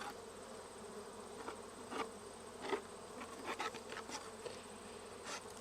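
Honey bees buzz around an open hive during an inspection. The hum is faint and steady, with occasional louder passes as bees fly close.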